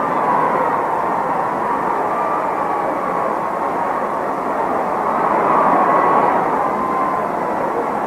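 A diesel special race car laps the Indianapolis track at the 1952 Indy 500, a continuous broad engine roar with a slow swell and fade, heard steadily without voices.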